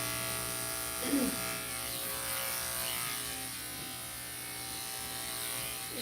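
Electric dog grooming clippers running close up, a steady bright buzzing hum that holds level throughout, with a person speaking over it.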